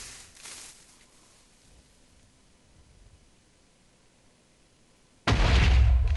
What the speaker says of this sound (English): So that makes a much bigger explosion than the normal TNT